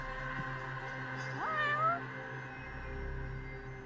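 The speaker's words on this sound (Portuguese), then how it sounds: "Olha, um gato." A cat meows in the video game Judgment, a single clear meow with a rising then falling pitch over steady background game music, with no talking.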